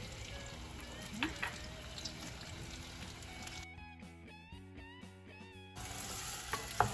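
Tomatoes sizzle and fry in a pan while being stirred for a goat cheese pomodoro with oregano, a steady close crackle that drops to quieter scraping and stirring midway before the sizzle returns loudly.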